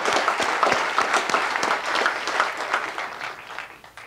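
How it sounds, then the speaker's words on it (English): An audience at the 2011 Lake Tahoe summit gives a round of applause, a steady, moderately loud wash of many hands clapping that slowly fades toward the end. "A big round of applause."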